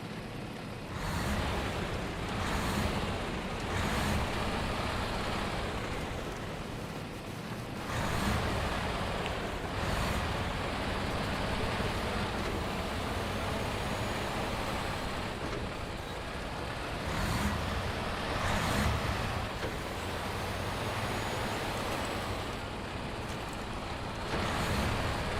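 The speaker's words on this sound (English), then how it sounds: "It makes like proper truck noises." Heavy truck engine droning steadily while driving off-road in SnowRunner's Michigan map, a continuous loud rumble with wind-like roar and occasional surges throughout, no talking.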